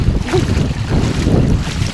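A low, rumbling boat engine drones steadily beneath wind noise and rushing water, close to the microphone, on a fishing trip.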